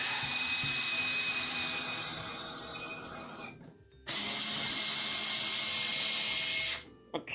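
A power drill whirs loudly and close at high pitch, driving screws while building a wooden stool; two long sustained runs are separated by a short pause and end with a brief trailing burst.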